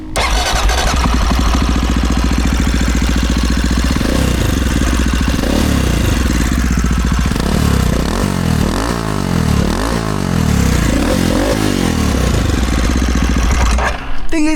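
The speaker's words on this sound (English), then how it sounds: "when you get on the throttle, it has that typical big thumper sound, but it's extra loud, extra bassy" A CCM Street Moto R single-cylinder thumper motorcycle engine revs hard on the throttle, loud and bassy, with deep pulsing engine roar and rising and falling rev sweeps through the middle, up close and continuous with no talk.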